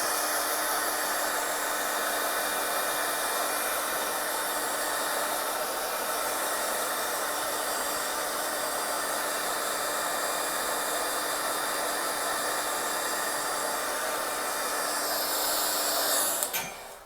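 A hair dryer blows steadily over a watercolor painting, a loud continuous whooshing hum for the full length before it cuts off abruptly at the very end.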